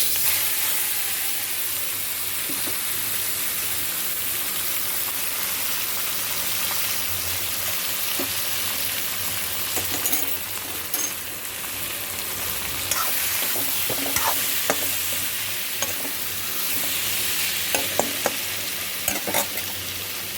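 Whole garam masala frying in a little oil in a wok gives a steady, close sizzle for about twenty seconds, with scattered scraping stir clicks growing busier toward the end.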